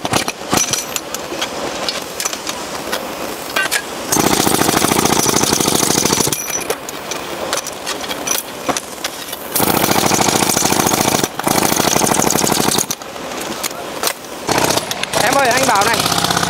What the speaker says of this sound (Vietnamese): Còn ý chỗ này thôi, đục nốt cho nó không bắn là được.